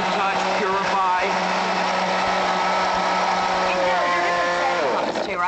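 A kitchen blender runs at high speed with a loud, steady whir throughout, while people talk over it.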